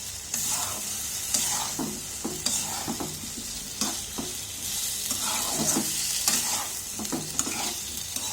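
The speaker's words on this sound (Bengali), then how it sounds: "আর কড়কড়া করে ভেজে তারপরে রান্না করবো যাতে কাটা অত না লাগে" Small fish are frying crisp in a pan, making a loud, close sizzle with rhythmic stirring and scraping bursts throughout and no one speaking.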